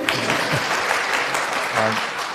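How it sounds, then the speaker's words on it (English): Audience applause at an Oxford University student Q&A, a steady wash of clapping across the room, with some speech-like murmur mixed in. "you all can clap for it, it's okay"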